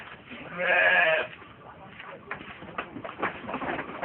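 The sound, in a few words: goat bleating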